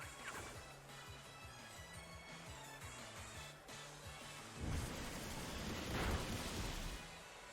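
Rain and rumbling thunder during a Pokémon Sword & Shield WiFi battle, heard as a steady loud wash of rain with low rhythmic pulses and a swelling crash of thunder toward the end, with no talk.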